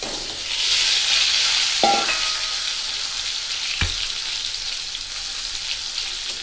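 Black cumin seeds and pointed gourd fry in hot oil in a wok, giving a steady close hiss and sizzle broken by two metallic clinks of a utensil against the pan.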